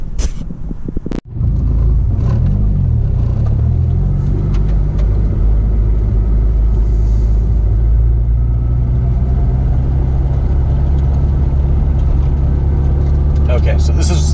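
Steady low rumble of a Subaru WRX driving along a road, with a door thump near the start before the engine and road noise settle into a constant, close drone.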